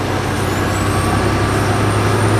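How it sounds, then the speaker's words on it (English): A heavy truck with a manual stick-shift gearbox drives along, its diesel engine droning low and steady with continuous road rumble and no pauses or voices. "how does it feel to be back in a truck with a stick?"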